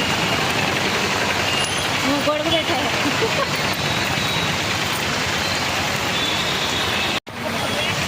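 Steady rain pours over a roadside market selling puja leaves for Vinayaka Chavithi, a dense continuous hiss mixed with the rumble of traffic jammed nearby.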